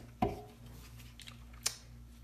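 Scissors snipping through a sewing strap for a wristlet, one sharp close cut followed by a smaller click, in a quiet room with a faint steady hum.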